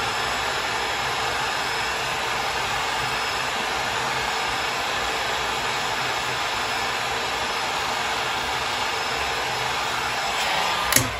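Heat gun melting resin for a sculpture, a steady loud blowing hiss held for the whole stretch, close by and alone, with a slight rise and a brief bump near the end.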